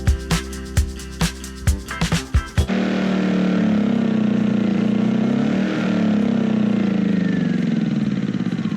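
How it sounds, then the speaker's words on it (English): A small engine, likely a generator, with its fuel shut off to drain the carburetor, first sputters in rapid uneven pops, then settles into a loud, steady close running drone. "turn the gas off and let them run to drain the carburetor of gas"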